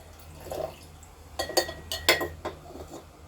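Nitric acid poured straight into a glass vessel to make aqua regia for gold refining, heard as a few close, bright glassy clinks and splashy liquid spatters with no talking.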